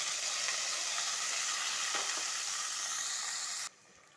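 Cooked dal, boiled with salt in a pressure cooker, hits hot oil with popped mustard seeds and sizzles in a loud, steady broadband hiss that cuts off abruptly near the end, with a few faint clinks along the way.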